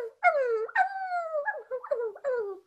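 A dog howls and whimpers close by in a string of rising and falling whines, four or five drawn-out cries with short breaks, alone with no talk.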